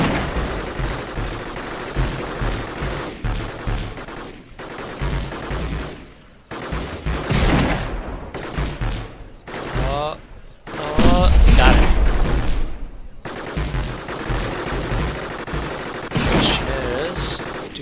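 Robot shotgun fire in Gladiabots: repeated booming blasts in uneven bursts, sometimes overlapping into rapid volleys, loud and close against busy game sounds.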